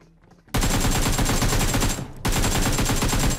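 Automatic rifle fire from an AK in the PUBG mobile battle royale game, loud rapid bursts of shots with a brief pause between two sustained volleys, close and dominant.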